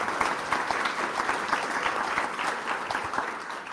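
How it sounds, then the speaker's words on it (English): Audience in a lunchtime history talk applauding the presenters, continuous even clapping from a room full of people, steady and fairly close throughout. "let's give a round of applause to our people."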